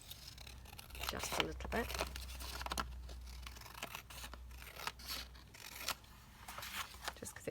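Scissors snip and trim paper for a Tim Holtz paper doll cover in a series of quiet, irregular cuts and rustles, close by, while a person speaks softly over them.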